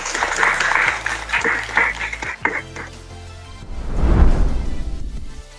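An audience at a Saraswati Puja game show claps, with a burst of applause swelling near the end. Talk and murmuring come before it, and the clapping sounds close and fairly loud.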